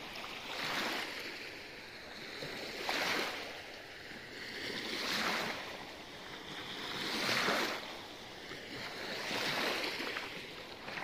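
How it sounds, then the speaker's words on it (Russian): Volga river water splashing rhythmically against an eroded wild-beach shore near Yaroslavl, with surges swelling roughly every two seconds over a steady washing hiss, close and moderately loud, no voices. "Волга как плещется."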